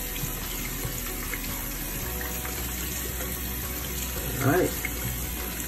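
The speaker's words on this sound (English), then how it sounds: "Rinsing our hands with water and continue to rinse them." Tap water runs steadily into a sink while hands are rinsed during a handwashing routine, a constant close hiss with a brief louder splash near the end and a short spoken remark.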